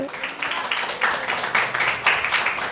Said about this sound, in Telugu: గట్టిగా చప్పట్లు కొడతారు ఒకసారి